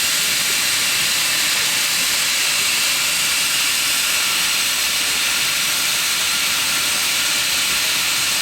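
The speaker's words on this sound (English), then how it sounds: "The steam engine is taking off." A steam train engine on a British heritage railway releases a steady, loud broadband hiss of steam as it departs, sustained without break and with no voices over it.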